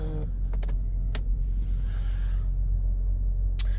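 Electric steering column motor in a Land Cruiser 200 moving the wheel in and out, a low motor hum inside the cabin broken by several sharp clicks and clunks, with no talk.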